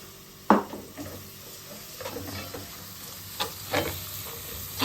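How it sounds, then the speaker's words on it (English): Chopped vegetables with Scotch bonnet pepper being stirred in a pot for Jamaican stuffed rainbow snapper, giving a soft sizzle with a few spoon scrapes and clinks against the pot, close and fairly quiet, without voices. "Just gonna continue to stir in all our chopped vegetables."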